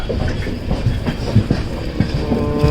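A 7,000 horsepower WAG wide AC goods train near Kalyan, close to Mumbai, rolls past with loud, steady rumbling and irregular rail clatter and thumps throughout, no voices.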